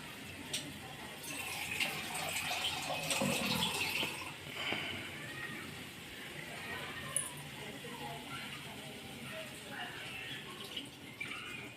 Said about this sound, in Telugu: కూరకు సరిపడా కొంచెం నేను నీళ్ళు వేసేస్తా